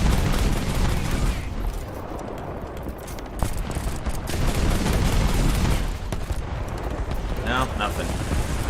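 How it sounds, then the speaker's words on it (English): Rapid bursts from a Lvkv 9040C self-propelled anti-aircraft gun firing proximity shells in War Thunder make a dense, continuous rumble of overlapping blasts. Game engine noise sits underneath, and a brief whistling tone comes near the end. "Proximity shells away."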